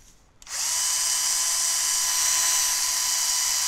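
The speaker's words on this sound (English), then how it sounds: "Let me reverse the drill." A power drill running in reverse while turning an Omron differential encoder starts up abruptly after a brief quiet moment, then holds a loud, steady high-pitched whine at constant speed until the end.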